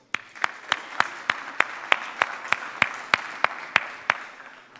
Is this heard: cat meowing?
no